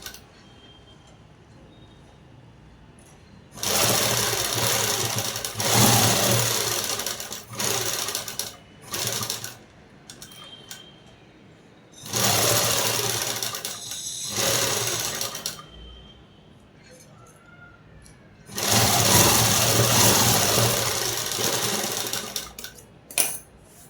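Sewing machine stitching a black dress runs in three long steady whirring bursts with quiet gaps between, close and clear, with no talking.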